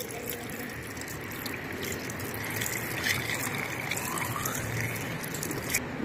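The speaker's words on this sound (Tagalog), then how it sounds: "Dagdagan natin ng tubig mga idol." Water pouring into the coolant reservoir of a 2024 Mitsubishi L200 with a 2.4 L diesel engine, a steady close gushing fill that runs unbroken and alone without talk.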